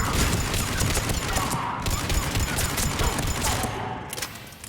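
Sustained automatic gunfire in the video game Mass Effect 3, a dense, loud fusillade of rapid shots with crackling impacts, continuous for several seconds before easing off.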